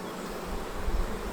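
Honeybees buzzing during a hive inspection before the final honey extraction, a steady low droning hum swelling slightly midway, close and continuous with no talk.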